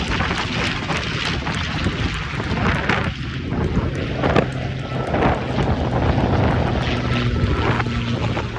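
Warbirds passing over an airshow, including an Avro Lancaster, a B-25J Mitchell and a Firefly, give a droning piston-engine roar that builds and swells, with wind buffeting the microphone.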